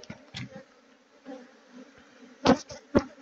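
African honey bees at a hive holding up to 30,000 insects give a steady, close buzzing hum, with a few louder swells of wingbeat drone passing near.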